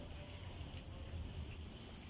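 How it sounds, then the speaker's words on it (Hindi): Heavy rain falls steadily outdoors, a dense continuous hiss of drops on surfaces with no pauses, fairly quiet overall and with no voices. "ये देखें ये देखिए बारिश हो रही है काफ़ी सारी"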